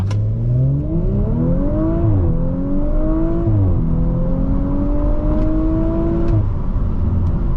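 A 2018 Audi RS5 Coupe launches hard. Its engine note climbs loud and close through several gears, dipping briefly at each shift, with no one speaking.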